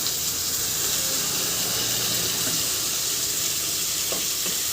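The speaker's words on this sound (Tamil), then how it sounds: "அதையும் நல்லா வதக்கி விட்டுக்கோங்க." Tomatoes cut into long slices sauté in a hot pan for paneer butter masala, giving a steady, even sizzle that runs unbroken throughout with no voices.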